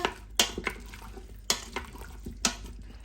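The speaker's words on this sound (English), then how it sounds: "Then give it a quick stir." Spoon clinks and scrapes against the metal inner pot of an Instant Pot while herbs are stirred into food, a few distinct close taps spaced about a second apart with soft wet stirring between.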